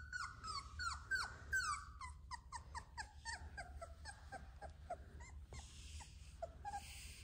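A big black-and-white doodle puppy gives a run of short, high whimpers and yelps in quick succession, fairly close and clear over a low background hum, with a couple of breathier squeaks near the end.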